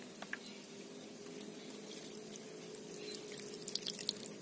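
Lukot sea cucumber eggs are rinsed in water outdoors, with faint dripping and splashing, soft and close, against a quiet steady hum.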